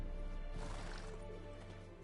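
Horse sounds from The Witcher 3, a whinny and hoof clops, loud and close in a short burst over a steady low game soundscape.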